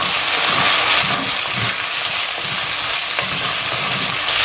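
Potatoes sauté and sizzle in an oiled pan while a dry fish coconut milk curry is being cooked, a steady close frying hiss with occasional stirring scrapes throughout, no voices.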